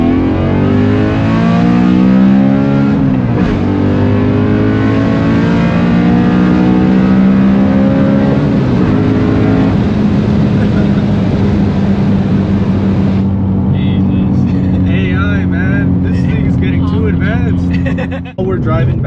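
A 2011 BMW M3 E92 engine drones loudly and steadily from inside the car while driving, with the pitch shifting as it revs up and eases off, and people talk over it throughout.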